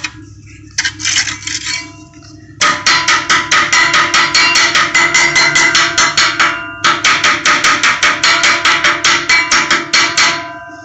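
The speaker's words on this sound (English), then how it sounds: "Wire brush my welds." Wire brush scrubbing fresh, still-warm welds on a school bus conversion, a loud rapid metallic rasping in continuous bursts with a short pause partway through.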